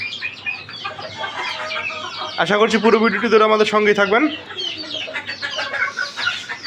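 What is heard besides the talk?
chickens clucking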